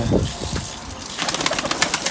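Pigeons coo softly from close by inside a coop of sick birds, with rustling and scraping noises underneath and brisk chirps and flutters overlapping near the end.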